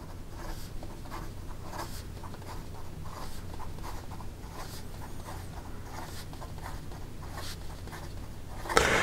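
Fast handwriting with a Benu Tessera fountain pen, a quick run of soft scratchy strokes scraping across paper in an irregular rhythm, faint and close, followed by a brief louder knock at the very end.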